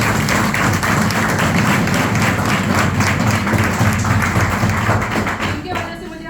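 Loud, sustained applause from a large audience at a speech event, dense clapping filling the whole stretch at close range before thinning out near the end.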